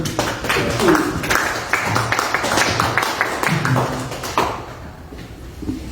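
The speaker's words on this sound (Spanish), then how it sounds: "un aplauso" An audience at a discussion event on the United States and Latin America applauds in a burst of loud, dense clapping that fades after about four seconds, leaving quieter room sound and a voice.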